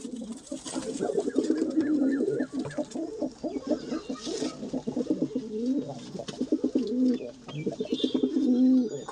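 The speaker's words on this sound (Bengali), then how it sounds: "এক পেয়ার পরপন পায়রা সেলের জন্য আছে" A pair of porpon pigeons kept for sale coo continuously in a pen, with low rolling throaty coos repeating close by.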